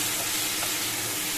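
Vegetables fry in a pan with a loud, steady, close sizzle that holds unbroken throughout.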